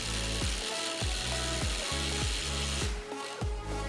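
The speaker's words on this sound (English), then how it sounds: "You can first remove the dust cap and unbolt the axle from the front hub assembly." Wrench or ratchet work freeing the axle nut from the front hub assembly of a 2009-2020 Ford F150 4WD, a steady run of repeated clicking pawl strokes and metallic tool sounds, close and fairly loud, with no talking.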